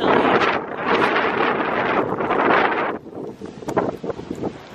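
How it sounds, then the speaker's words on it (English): Strong outdoor wind in Virginia roars and buffets the microphone in a loud, continuous rush, then eases into gustier, fluttering bursts. "Blown away by the Virginia wind."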